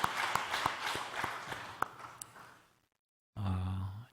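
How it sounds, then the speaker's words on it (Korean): A church congregation applauds during a Sunday service, a steady patter of many hands clapping that fades into brief silence before a voice begins. "하나님께 감사하는 박수 한번 더 하십시다"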